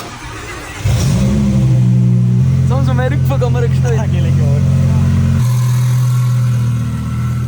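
A twin-turbo Lamborghini Huracan Performante tuned to 1,800 hp revs on a dyno, its engine jumping from idle into a loud sustained roar with rising and falling pitch while someone speaks over it.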